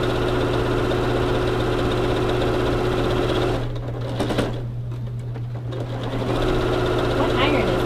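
A sewing machine stitches a baby quilt with a loud, close, steady whir that pauses briefly midway and then resumes, with a voice speaking over it.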